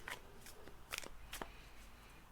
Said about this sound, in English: Okay, so I'm shuffling these cards up.